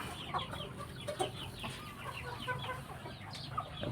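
Hens cluck repeatedly in short, scattered bursts over a low farmyard background, moderately close, with no talking.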